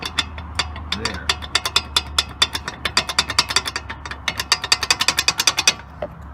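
A ratchet wrench tightens sway bar bolts on a GMC Envoy, giving a long run of quick, crisp clicks close to the microphone that speed up and grow louder toward the end.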